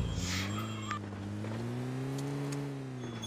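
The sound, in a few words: car driving in PUBG Mobile Lite video game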